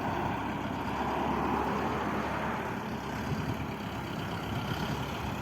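Lovol 504 tractor engine running steadily during a test drive, a continuous low diesel rumble with a broad mechanical roar, fairly close and even in loudness throughout.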